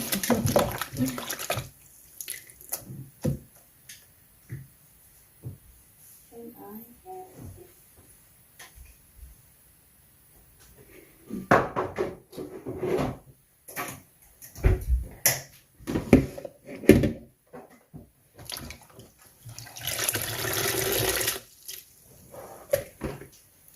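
Dandelion flowers are rinsed by hand in a basin of water, with splashing, sloshing and dripping in uneven bursts over a long stretch, loudest near the end, with occasional quiet voices.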